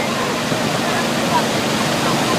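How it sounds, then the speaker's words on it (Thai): A high waterfall in southern Laos, swollen in the rainy season, crashes down a steep cliff onto rocks with a loud, constant, broadband roar, while a voice speaks over it. "น้ำไหลหลากแล้วก็ตกลงมากระทบกับ โขดหินซึ่งเป็นหน้าผาที่สูงชัน"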